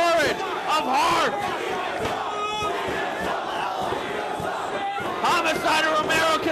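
A wrestling crowd in Dayton roars and cheers in a packed arena, a loud, sustained wash of voices with rising shouts, and a commentator talks over it.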